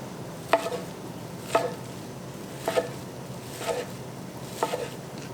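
Sushi bake ingredients are cut on a small cutting board, with about five evenly spaced knife taps knocking close and quiet against the board.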